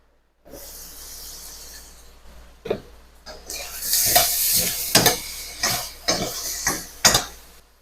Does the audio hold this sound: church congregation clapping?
no